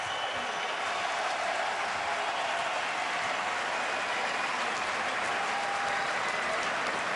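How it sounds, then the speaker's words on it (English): An arena crowd in Boston keeps up dense, continuous applause and cheering after a UFC fight, with the clapping filling the whole stretch at an even level. "So the crowd responding here down the stretch."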